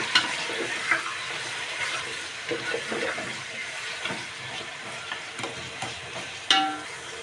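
Mutton sizzling in a pan over a gas flame while being stirred, a continuous hiss and crackle with scraping stir strokes and one sharper clatter near the end, close-up, with no voices.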